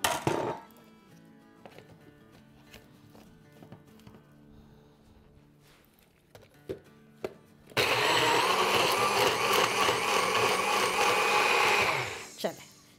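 A kitchen blender grinds chicken broth with leftover roti into soup, roaring loudly for about five seconds before cutting off, after quieter clinks and handling noises.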